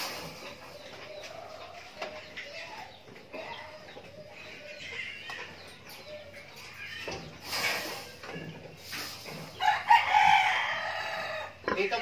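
Chickens cluck and a rooster crows nearby, with scattered bird calls and some rustling over a low outdoor background.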